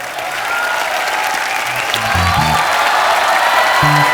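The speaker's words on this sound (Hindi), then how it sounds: "जोरदार तालियों से स्वागत कीजिए" An audience claps steadily, a dense wash of applause that swells slightly and continues throughout.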